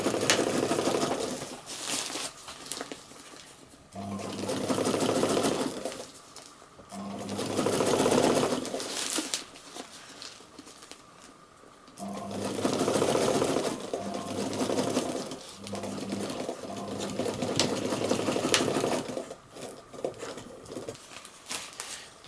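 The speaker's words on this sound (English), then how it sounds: "flatten the little flap down, and then just sew that down." A sewing machine stitches down the folded flap of a fabric handle on a utility bag, running in loud close bursts of several seconds separated by short pauses.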